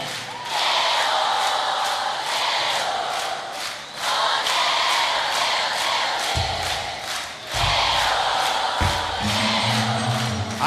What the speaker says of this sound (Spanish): Ese grito de las chicas.